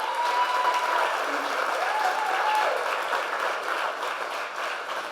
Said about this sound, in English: Can we give a round of applause to MaryStuart Day?